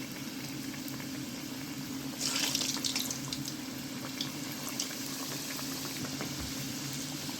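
Samosas fry in hot oil, a steady bubbling hiss with a burst of louder crackling as more pieces go in, settling back to an even simmer.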